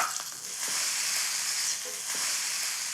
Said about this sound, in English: I need to get my steak flipped over